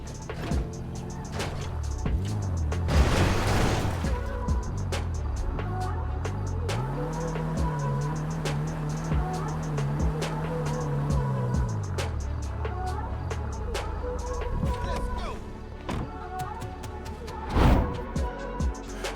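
Engine of an armored Kuruma car driving in GTA 5, a steady low hum that rises and holds before easing off, under game sounds and with no talking.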